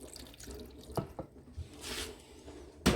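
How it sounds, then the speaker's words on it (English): A small amount of water poured into a blender holding a mushroom mix, with faint dripping and splashing, a short trickle near the middle, and a louder clunk at the end. "And also I'm gonna add tiny bit of water"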